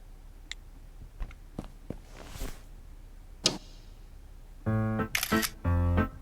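Several mechanical camera shutter clicks, some sharp and single, then two longer buzzing bursts near the end, close and fairly quiet with no talking.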